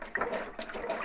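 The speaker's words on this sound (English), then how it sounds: "There's the water tap there." Water runs from a tap in the galley plumbing of a Westerly Centaur sailboat, a short, faint, continuous gushing splash heard alone.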